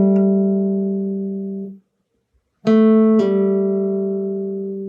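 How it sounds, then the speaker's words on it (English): A guitar note rings on the fourth string and fades; after a brief pause a fresh note is struck, then a pull-off drops it cleanly to a lower sustained note, close and clear. "I'm going to pull my 3rd finger off the string to create the 2nd"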